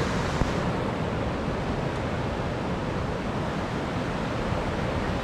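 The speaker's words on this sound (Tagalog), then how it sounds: "lalaki na ng alon" Dense, continuous roar of surf with wind buffeting the microphone, loud and close, steady for the whole stretch with no voices.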